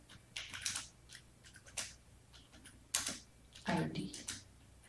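Code is typed on a computer keyboard: faint, irregular clusters of key clicks and clacks with short pauses, plus a slightly heavier thunk near the end, all quiet and close.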